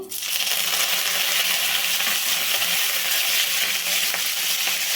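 Curry leaves tempering in hot oil with fenugreek, urad dal and cumin for a bitter gourd tamarind curry, giving a loud, steady, close crackling sizzle that stays dense and unbroken throughout.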